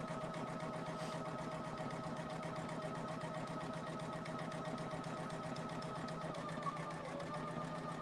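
A Poolin EOC06 single-needle embroidery machine stitches steadily and alone, a fast, even mechanical chatter with a constant motor hum running unbroken from start to finish.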